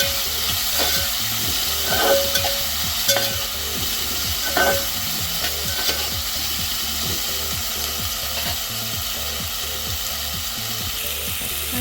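Roasted green chillies frying in oil with onion and tomato, a steady close sizzle broken by rhythmic scraping and clacking stirs against the pan, with no voices.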